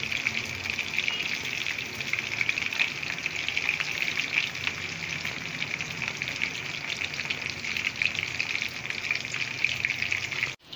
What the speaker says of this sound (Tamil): இங்கே பாருங்கள் மீன் நல்லா ஃப்ரை ஆயிடுச்சு.